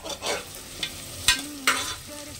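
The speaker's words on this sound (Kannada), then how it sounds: "ಶುಂಠಿ ಬೆಳ್ಳುಳ್ಳಿ ಪೇಸ್ಟ್ ಹಾಕ್ತಾ ಇದ್ದೀನಿ. ಅಂದರೆ ನಾನು ಜಜ್ಜಿಟ್ಕೊಂಡಿದ್ದೀನಲ್ಲ, ಅದನ್ನು ಹಾಕ್ತಾ ಇದ್ದೀನಿ. ಚೆನ್ನಾಗಿ ಫ್ರೈ ಮಾಡ್ಕೋಬೇಕು" Crushed ginger garlic paste fries in a pan for mint rice, with scraping stirs and short sizzling bursts at irregular intervals, close and moderately loud.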